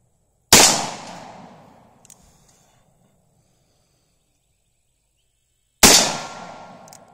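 Two sharp revolver shots at an outdoor range, several seconds apart, each a loud crack with a ringing tail from a hit on a steel target, with a faint clink between them.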